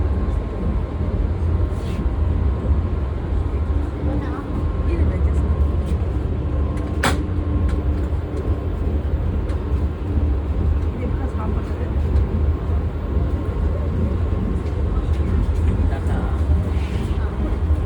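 Steady low rumble and rush of a Vande Bharat express train running from Tirunelveli to Chennai, heard from inside the coach, continuous and fairly loud with a few clicks, while people talk over it.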